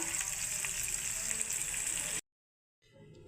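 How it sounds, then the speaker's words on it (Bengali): Slices of bitter gourd fry in hot oil with a steady, bright sizzle that cuts off abruptly and then resumes more faintly. "এখন করলাগুলো আমি ভেজে নিচ্ছি"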